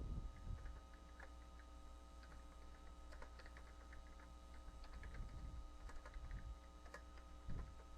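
Rapid, light keystrokes on a computer keyboard as information is typed into a form in OrangeHRM software, steady irregular clicking that is faint and close with a low background hum.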